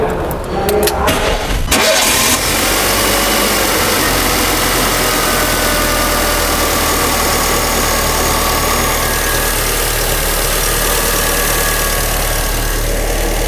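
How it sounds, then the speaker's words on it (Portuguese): A Fiat car engine cranks briefly, catches and settles into a steady, loud, close idle that runs on evenly after the start, with no talk over it. "Agora a gente vai dar partida no motor e ver se os barulhos que estavam vindo ali das duas correias de acessórios, se o barulho acabou definitivamente."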